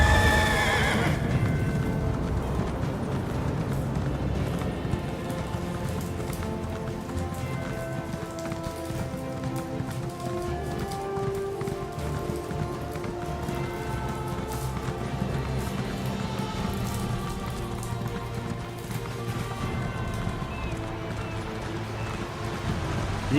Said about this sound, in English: You need to get your horse slow.